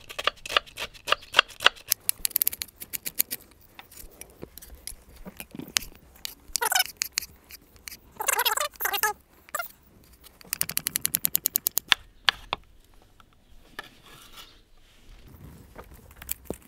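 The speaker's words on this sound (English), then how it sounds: "we can just finely dice our red onion." A knife finely dices red onion on a cutting board in a kitchen, producing rapid bursts of crisp, close tapping chops separated by short pauses and a few slower single cuts.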